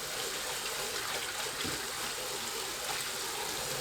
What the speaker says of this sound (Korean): 흐르는 물로 씻어줍니다